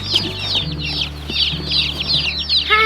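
Baby chicks in a box give rapid, high-pitched peeps and cheeps, close and continuous, with many overlapping calls throughout.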